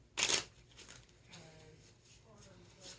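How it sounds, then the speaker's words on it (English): A small deck of cards gets a quick, sharp shuffle near the start during a tabletop session of the board game Pandemic Legacy, followed by quieter handling and low background sound. "It's hard shuffling such a small deck."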